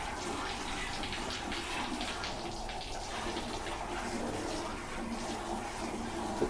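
Milk squirting in strong streams into a pail while a Jafarabadi buffalo is milked by hand, a steady, close hissing and splashing that runs on continuously.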